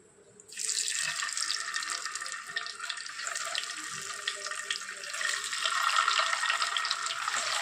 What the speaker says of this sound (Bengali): তেলটাও আমার গরম হয়ে গিয়েছে এবার ডিমগুলো দিয়ে দেব